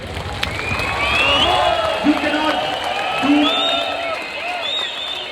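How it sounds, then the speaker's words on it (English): Applause and cheering rise from a standing crowd at the Sobha annual function 2025. A loud amplified voice talks over the crowd throughout, with scattered whoops and whistles mixed in. "Give the biggest round of applause for your leaders."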